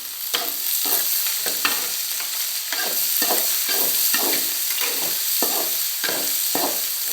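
Vegetables fry and are stirred in a pan, giving a steady hiss broken by repeated scraping strokes of the spoon at a regular rhythm, close and fairly loud, with no voices.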